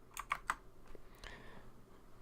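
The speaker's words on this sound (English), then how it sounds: "type on your keyboard Control and F4." Keys pressed on a computer keyboard to enter a key combination: three sharp clicks close together in the first half second, then a couple of softer taps over low background hum.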